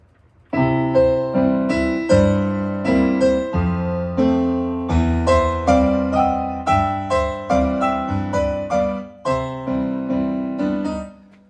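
A piano plays The Entertainer with both hands together at a very slow, deliberate pace, each chord and note struck separately and left to ring, close and clear with no talking.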